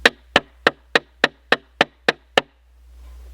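A 17mm box end wrench is used as a hammer to drive a nail, giving nine evenly spaced, sharp metallic knocks in a steady rhythm, close and loud, followed by quiet.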